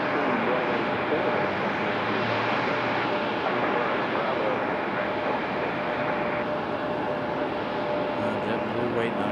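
An American Embraer E-175 jet departs from Raleigh-Durham International, its engines making a continuous, fairly loud roar that shifts slightly in tone toward the end.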